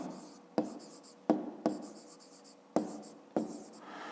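A pen writes on paper while a fifth-grade maths exercise is worked out, making close scratching strokes in several bursts with short pauses between them.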